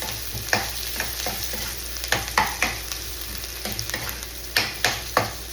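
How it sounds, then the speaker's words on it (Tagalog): Onions caramelizing in a pan with garlic hiss in a steady sizzle, broken by repeated sharp scraping strokes of a utensil stirring them, close and clear with no talk. "I-ano lang natin ito, i-caramelize lang natin yung ating onion o sibuyas"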